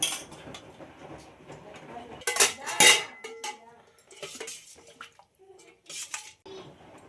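Bagara rice and mutton curry being served onto a plate, with utensils clinking and scraping against dishes in a few loud bursts and scattered lighter clinks, close and without talk.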